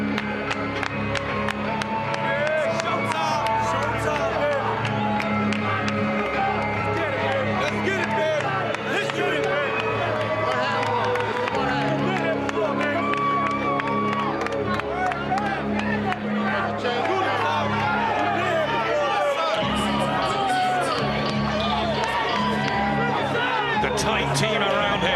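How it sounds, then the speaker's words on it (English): A boxing arena crowd roars and murmurs continuously as a fighter makes his entrance, a dense wall of cheering and babble with scattered claps, and a voice talks over the din. "Just listen to the reaction that Shane Mosley will get"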